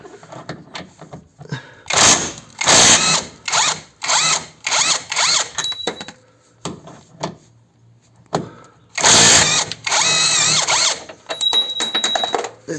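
A cordless impact wrench loosens 16 mm suspension arm bolts on a Seat León, loud close bursts of hammering rattle repeated in short runs with brief pauses and a long burst near the end.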